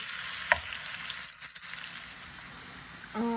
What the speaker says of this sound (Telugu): ఈ ఆనియన్స్ గోల్డెన్ బ్రౌన్ వచ్చేంత వరకు ఫ్రై చేసుకోవాలి